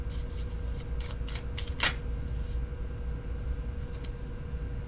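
Tarot cards are shuffled in quick riffling bursts, a series of crisp flutters and snaps close by, with a steady low background hum.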